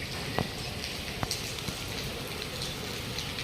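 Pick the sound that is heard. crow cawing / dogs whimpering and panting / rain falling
rain falling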